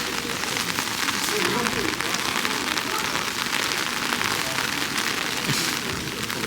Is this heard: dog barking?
no